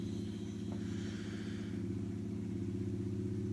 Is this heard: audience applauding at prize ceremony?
no